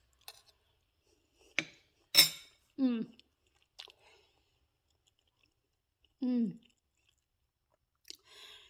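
Close, crisp chewing of a bite of apple cinnamon puff pancake, a handful of separate crunchy bites and wet mouth sounds broken by short pauses, with a faint clink of cutlery near the start.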